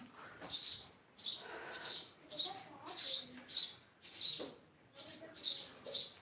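A small bird chirps in a steady run of bright, short tweets about twice a second, fairly faint, with soft murmuring voices beneath at times.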